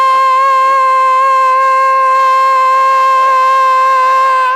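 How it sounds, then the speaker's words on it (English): Aircraft landing gear warning horn in a Piper Comanche, a loud, steady continuous tone holding unbroken for several seconds with no talk over it. "got to reset his gear horn"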